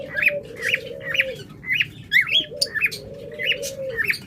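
Caged pet lovebirds or budgerigars chirp and squawk close by in rapid repeated bursts, some longer warbling calls running under the sharp tweets.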